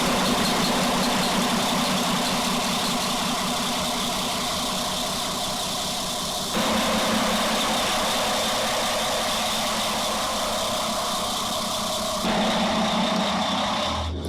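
A yacht's engine idles steadily and loudly throughout, with no voices, its tone shifting noticeably about halfway through and again near the end before a brief drop at the close.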